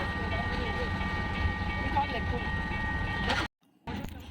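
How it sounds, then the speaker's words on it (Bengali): A train passes near a roadside hill in Chittagong, a continuous rumbling roar with a sustained bell-like tone ringing over it, cut off abruptly near the end before faint noise returns. "এখানে তখন ট্রেন যাচ্ছিল, তাই ট্রেনের ঘন্টা শোনা যাচ্ছিল।"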